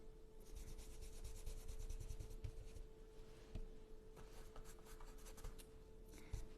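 A stencil brush is dabbed and rubbed onto cardboard to offload paint while making Christmas wrapping paper, giving a steady soft scrubbing and scratching sound at close range, with a few sharper taps and a constant low hum underneath.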